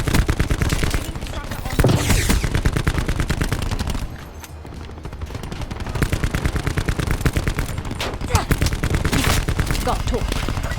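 Automatic gunfire in a Call of Duty Black Ops 4 multiplayer match, dense rapid bursts crackling loudly and almost continuously, with a short lull midway before the shooting resumes.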